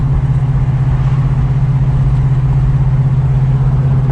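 A 1973 AMC Javelin Pierre Cardin engine runs steadily after fresh gas, a loud close low rumbling idle with an even pulsing hum and no voices.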